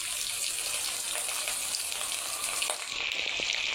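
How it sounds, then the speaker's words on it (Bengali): Fish laid in a pan on the stove fries with a loud, continuous hiss and crackle, steady throughout with small pops near the end and no talking. "এই যে মাছটা চুলার উপরে দিয়ে দিলাম ভাজি করার জন্য"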